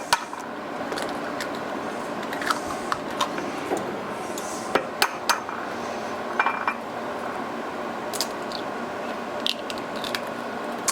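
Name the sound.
cracking eggs into a bowl for sweet potato casserole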